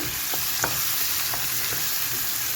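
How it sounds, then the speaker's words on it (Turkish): Mushrooms, just boiled, sizzle as they fry in oil while being stirred, a steady bright hiss broken by a few soft scraping clicks, close and without talk. "az önce haşlandı şu anda da kavrulacak"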